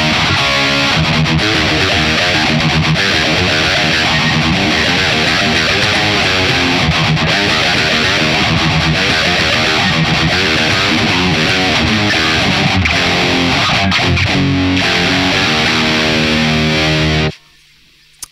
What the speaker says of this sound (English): that was the metal amp and the distortion at with high gain